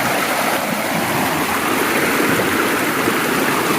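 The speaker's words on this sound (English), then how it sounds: "this is what we're hiking in, up this small river." A small river flows through a tropical rainforest, its close, loud, steady rushing and splashing filling the air continuously with no voices.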